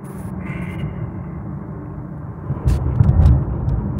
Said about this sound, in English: So we're just test driving the car to make sure that everything is cooling steady.